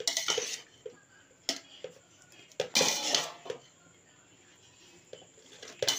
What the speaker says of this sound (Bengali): খুব আলতো হাতে এইভাবে নাড়াতে হবে, আর রাইসটাও কীরকম ঝরঝরে আছে দেখেছেন তো